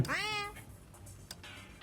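Cat meows once in Honkai Impact 3, a clear rising-then-falling cry right up close, followed by faint soft clicks and a quiet background.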